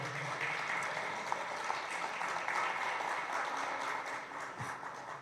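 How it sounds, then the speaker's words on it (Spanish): Audience applause welcoming a priest to the podium at a lecture, a steady, fairly faint wash of clapping heard from a distance that holds evenly for several seconds. "Recibámoslo con un aplauso"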